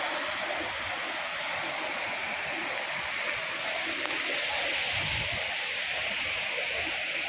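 Thoseghar waterfall, a very large falls, roars as a steady broadband wash of rushing water, close and loud and unbroken throughout with no voices.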